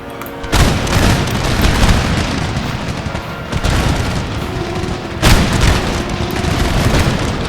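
Infantry volleys thunder in the Empire: Total War battle, heavy booming musket fire with sharp bursts near 0.5, 3.5 and 5.2 seconds over a constant rumble of distant gunfire.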